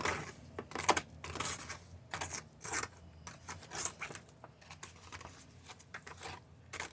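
Sand being stirred with isopropyl alcohol in a small container for a model railroad parking lot, close gritty scraping and rubbing strokes in an irregular rhythm, quiet and without talk.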